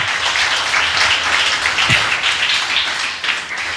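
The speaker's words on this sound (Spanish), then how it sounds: "denle un aplauso al Paracletos" A church congregation claps steadily at a Spanish-language service, a thick, even wash of applause filling the room without pause.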